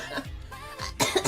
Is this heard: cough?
yes